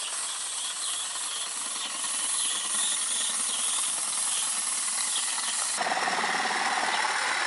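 Steam hisses steadily from a leaking lubricator on a model coal-fired steam locomotive, a close, continuous airy rush that briefly grows harsher and louder near the end, with faint mechanical ticking beneath.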